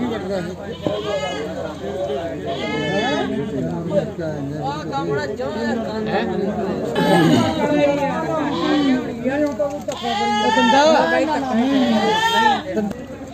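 Goats bleat again and again at a busy goat market in Bargari where Beetal goats are being traded, the calls rising over constant nearby chatter and men bargaining.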